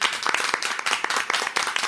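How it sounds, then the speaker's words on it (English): Crowd applause, a dense steady wash of many hands clapping throughout, fairly close and even in loudness. "Let's welcome him with a great round of applause."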